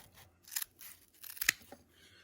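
Scissors make a few quick, crisp snips, close and quiet, as they cut a strip of material for a homemade bottle brush.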